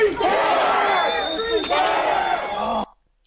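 A crowd roars and yells with excitement as magazines are thrown out to it, a loud, dense burst of voices that carries on for nearly three seconds and then cuts off.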